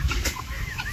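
A chicken clucks close by in a short, loud burst of rough calls over a low background rumble.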